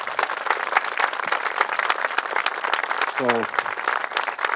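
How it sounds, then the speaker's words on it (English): Outdoor crowd applause for a city mayor at a monument dedication, close and lively clapping with uneven bursts of individual hands, briefly overlapped by a short spoken word. "So I would ask you all to give a round of applause for the Quincy Mayor Koch"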